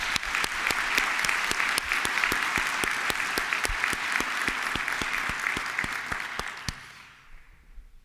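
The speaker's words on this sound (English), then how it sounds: "Please give her a warm round of applause." Audience at a university opening ceremony applauding a student, a full, even roll of many hands with sharp individual claps standing out, holding steady before fading away at the end.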